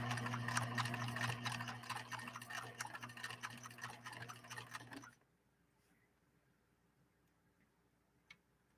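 A PFAFF 1222E sewing machine stitching fabric in a steady, rapid mechanical run with a low motor hum, stopping abruptly about halfway through and leaving near silence with a faint click.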